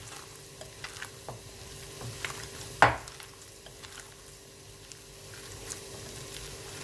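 Carrots fry in a spoonful of oil, giving a soft continuous sizzle with scattered light clicks of a utensil and one sharp clack against the pan partway through.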